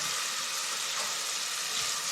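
Cumin seeds fry in a pan with a steady, bright hiss of sizzling oil, close and continuous, with faint stirring and no voices.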